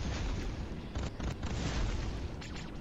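A frag grenade goes off in the video game Space Grunts: heavy booming blasts rumble continuously, with brief sharper bursts near the middle and the end, and no voices heard.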